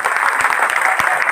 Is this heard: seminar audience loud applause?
yes